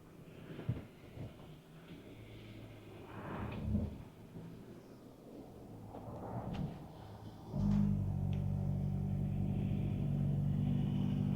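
A 2025 Hyundai Santa Cruz XRT crawls off-road over moguls on off-camber ground, its engine a low rumble with creaks and thumps, then revving into a steady louder drone toward the end.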